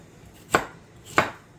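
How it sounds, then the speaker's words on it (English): Two crisp knife cuts slice through fresh pears on a board, spaced about half a second apart, close and clear with no talking. "I'm going to keep slicing because that's just kind of what I like"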